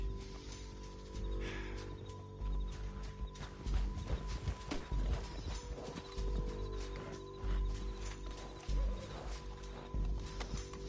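Horse hooves clip-clop steadily through a Red Dead Redemption 2 canyon ride, with occasional whinnies over a low rumbling game score, at moderate loudness.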